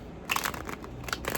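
Tarot cards are shuffled on a wobbly desk, giving faint, close crackling, riffling and rustling bursts in a quiet room.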